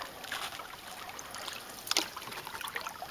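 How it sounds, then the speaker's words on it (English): A small stream trickles and burbles under a canoe, faint close water babbling with light splashes and a brief knock of the hull or paddle near the middle. "going through a nice little stream like this"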